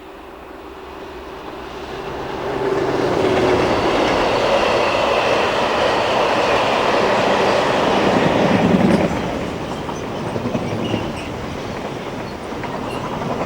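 A British Rail Class 37 diesel locomotive passes with a train, returning from the Andover area: a loud, sustained rumble swells in after a couple of seconds, holds steady with rolling wheel noise, then eases back to a lower drone.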